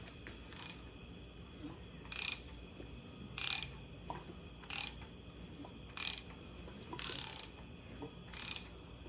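A ratchet clicks in seven separate bursts, each roughly half a second long, at a fairly steady pace as an LS engine is turned over by hand during a cam install with new valve springs and pushrods. The clicks are close, with a low hum underneath.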